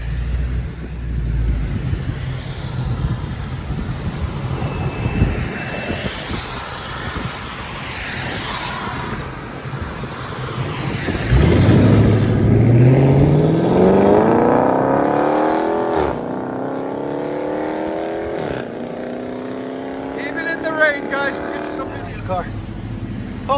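A Dodge Charger Scat Pack with a 6.4L HEMI V8 and deleted rear mufflers with 5-inch tips: a deep, loud exhaust rumble that swells into a rising rev, then burbles back down, with people talking over it.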